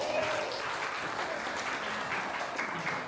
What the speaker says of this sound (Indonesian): Tepuk tangan buat Bu Agita